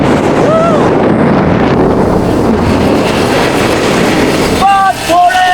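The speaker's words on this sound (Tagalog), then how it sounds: "Ang sarap ng hangin dito oh." Wind rushing steadily outdoors in a broad, loud roar buffeting the microphone, with a couple of brief faint voice-like tones near the start and end.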